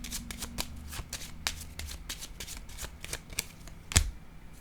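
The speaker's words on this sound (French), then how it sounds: "Je voulais piger une carte ici sur la personne qui fait des recherches." Cards being shuffled and drawn for a tarot-style card reading, a run of crisp riffling flicks in quick succession ending with a sharp snap, close and fairly quiet with no talking.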